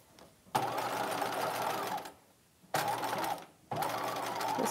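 A sewing machine stitches the lining of a 1950s halter dress in three close bursts of steady whirring, separated by short quiet pauses.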